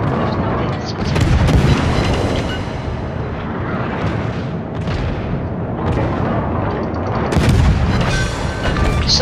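Heavy explosions and rolling gunfire fill a naval battle video game as an enemy cruiser is sunk, loud and continuous booms layered over one another.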